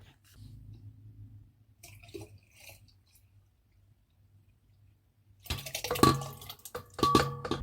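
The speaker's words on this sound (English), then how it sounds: "we'll just pour the water into the fermentation tank" A burst of splashing, gushing water pours loudly into a fermentation tank for mangosteen and raisin wine for a couple of seconds, after quieter low rumbling and faint clinks.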